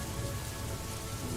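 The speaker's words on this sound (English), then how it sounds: "the rain intensified, drumming on the cafe's roof in a steady rhythm" Steady rain drums on a café roof, a dense, even patter with no breaks, heard alone and fairly soft.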